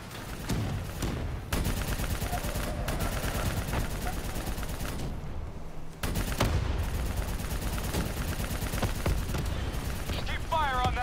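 Rapid automatic gunfire rattles almost continuously through a Call of Duty: Black Ops 3 battle, joined by mechanical clatter and shouted voices, with a brief lull midway before the shooting resumes.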